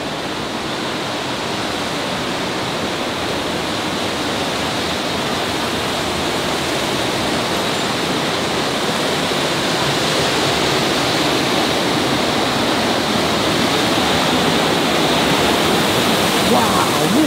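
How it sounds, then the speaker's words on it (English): A river flows through the inside of an abandoned cotton mill, making a loud, steady broadband rush like a waterfall that stays constant throughout with no letup. "Look at that river. Inside the building."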